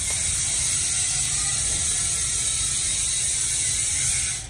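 Steady, rapid mechanical ratcheting from a Speed 1 Torpedo bicycle freewheel hub with 8 pawls, a continuous buzzing click at close range, moderately loud and uninterrupted.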